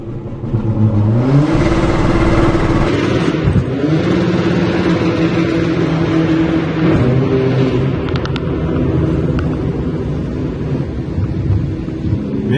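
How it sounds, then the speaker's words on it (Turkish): A tuned VW Polo, boosted from 90 to 200 hp, roars through a launch-control start: the engine holds a loud rev, then climbs steadily and pulls hard through the gears, close and continuous with no talk. "Evet Polo aracımızın launch kontrolünü sizlerle paylaşalım."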